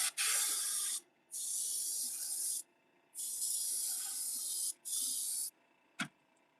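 Airbrush spraying paint onto fishing lures in four hissing bursts of a second or more each, separated by short pauses, followed by a brief sharp tap near the end; close and steady, with no talking.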